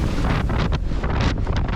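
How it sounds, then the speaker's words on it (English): Stormy wind roaring over a sailboat 32 nautical miles off the coast of Norway, with waves and water rushing beneath it; steady, loud, buffeting gusts hitting the microphone, with no voices. "weather and waves continuously increasing towards stormy conditions"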